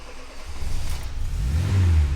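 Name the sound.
Bertone X1/9 1500cc engine starting and revving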